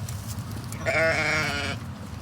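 A farm sheep gives a single loud, nearby bleat lasting almost a second, rising clearly above a low background rumble.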